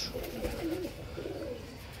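Pigeons coo softly in a short series of low throaty calls, fairly close and quiet, with no talk over them.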